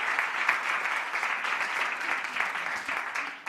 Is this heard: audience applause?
yes